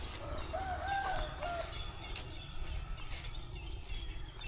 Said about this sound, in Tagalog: daming mga ibon doon.